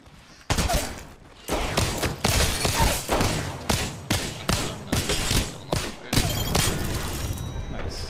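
Rapid bursts of gunfire ring out in the video game Apex Legends, loud repeated shots and thumping impacts in quick irregular volleys with brief gaps between them.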